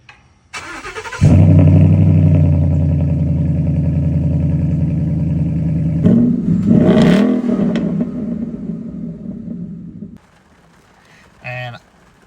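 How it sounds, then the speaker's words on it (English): A car with an aftermarket exhaust and a deleted muffler cranks over and settles into a loud, close, rumbling idle, then gives a brief rev before cutting off, with a short burst of sound near the end. "it did come with an aftermarket exhaust, which the previous owner did a muffler delete"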